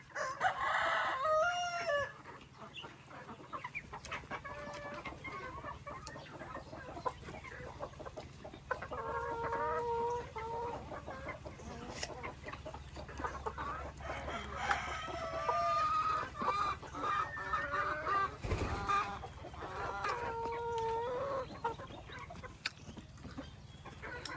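Chickens cluck steadily throughout, with a rooster crowing partway through, a busy farmyard flock close by.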